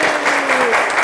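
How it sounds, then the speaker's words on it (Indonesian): A classroom of students claps for a classmate, giving a short burst of close, dense applause that lasts only a moment. "tepuk tangan untuk Sani"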